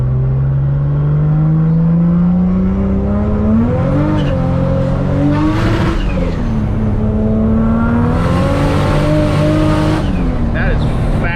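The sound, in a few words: Toyota Supra with bigger turbo accelerating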